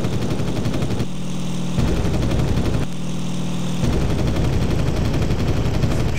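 Rapid machine-gun bursts from an aircraft in the IL-2 Sturmovik 1946 flight combat game, two or three loud rattling volleys over a constant droning engine.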